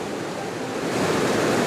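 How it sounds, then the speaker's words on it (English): A waterfall pours down in a mountain landscape, heard as a steady, dense wash of broadband rushing water that swells slightly louder toward the end, with no voices. "found this absolutely gorgeous waterfall with the mountains just peeking in at the top"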